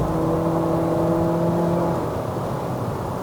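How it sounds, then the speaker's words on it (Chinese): A 2023 Chery Omoda 5 1.5T with CVT revving under heavy throttle, heard from inside as a steady droning engine hum with a sustained tone that drops away near the end, no talk. "再踩多一点，看到吧？ 转速会直接提高哦。"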